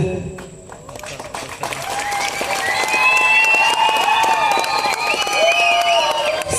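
Audience clapping at a live drama stage show, a dense burst of applause that swells and holds, with whistles and crowd noise over it.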